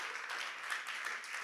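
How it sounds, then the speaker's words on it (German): Brief, faint audience applause during a church youth service livestream, a soft wash of steady clapping with no voices. "ich gebe dem Dave auch einen Applaus."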